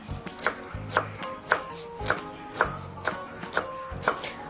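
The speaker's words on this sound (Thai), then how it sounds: "อันนี้หั่นผักก่อนนะคะ" A knife chops vegetables on a board in a quick, even rhythm of sharp thuds, close up with no talking.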